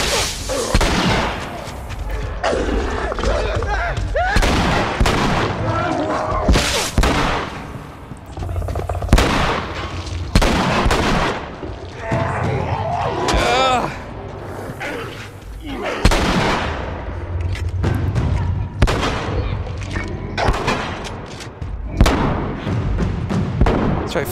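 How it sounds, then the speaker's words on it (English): Explosions from bombs thrown by a zombie in The Last of Us, a dense run of loud booms and gunfire-like bursts filling the whole stretch, with voices speaking over the chaos. "we've got a fucking zombie throwing bombs at us"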